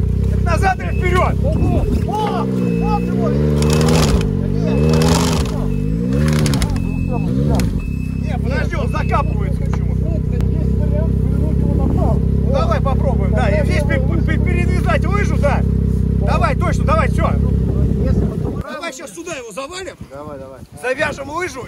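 A BRP Commander 900 ACE Turbo snowmobile stuck in deep snow roars loud and close for about eighteen seconds, its engine revving and surging in rising, falling sweeps, under people talking, then cutting out to quieter voices.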